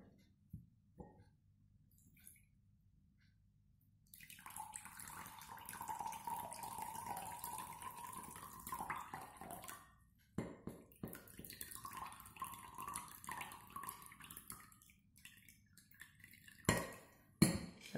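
Water poured off lentils soaked for a day, a thin trickling stream running for several seconds, then broken splashes, drips and clinks of a container, quiet and close, with no speech.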